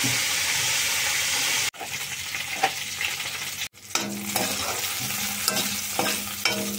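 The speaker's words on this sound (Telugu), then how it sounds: "పచ్చిమిరపకాయలు వేగిపోయినాయి" Green chillies sizzle in hot oil in a pan, a steady crackling fry broken by sharp clacks and stirring scrapes, with a low hum underneath.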